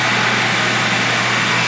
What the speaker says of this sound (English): right now we're sanding this down on 80 grit sandpaper is what I got inside the drum sander